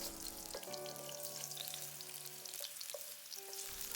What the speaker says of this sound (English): heat up 2 tablespoons of vegetable oil. We'll put in the ginger slices first